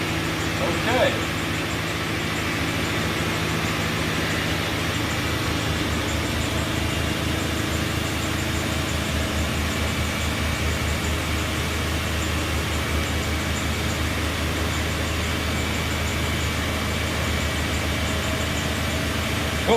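A Ford Crown Victoria engine idles smoothly after warming up, a steady low rumble continuing evenly throughout with a faint whine above it.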